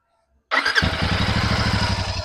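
A Harley-Davidson motorcycle engine starts abruptly and settles into a loud, steady, deep rumbling idle with a rhythmic lumpy pulse.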